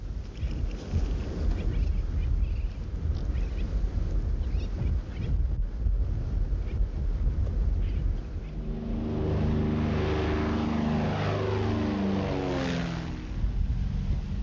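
An engine drones steadily, then a nearby supply airplane grows loud and passes close over Tetiaroa atoll in French Polynesia, its engine pitch sliding as it goes by.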